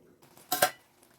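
A metal lid set back onto a cooking pot of pork vindaloo, two quick clanks close together, brief and moderately loud against a quiet kitchen background.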